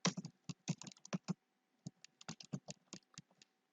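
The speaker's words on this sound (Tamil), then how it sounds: "நான் வந்து என்னுடைய டீட்டெயில்ஸை டைப் பண்ணுறேன்." Someone typing details into income tax software on a computer keyboard, with quiet, close key clicks in quick bursts separated by brief pauses.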